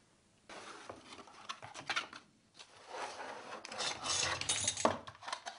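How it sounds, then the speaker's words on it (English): A hard drive in an external enclosure is jiggled back and forth off its circuit board, giving close, quiet, irregular rubbing and scraping with small clicks. "With these screws removed, it's possible to slowly jiggle the drive back and forward to slowly"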